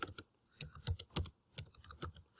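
Quick, close clicks of keys being typed on a computer keyboard, arriving in uneven little bursts with short pauses between them.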